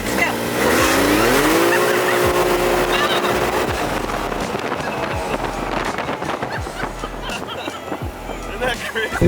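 A Can-Am X3 XRS Turbo side-by-side accelerating hard from 0 to 60 in four-wheel drive, its engine note rising through the gears with strong wind noise, loud and close, while passengers talk and react.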